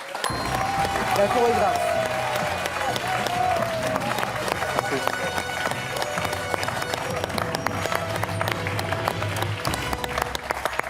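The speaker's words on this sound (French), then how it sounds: "Richard applaudit Bernard" Studio audience applause on a French TV quiz show, Questions pour un Champion, a steady dense clapping wash sustained throughout with a host talking over it.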